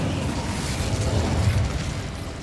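A fire spell, Incendio, cast in a video game: a steady roaring whoosh of flame that swells to a low rumbling burst midway, then holds. No voices.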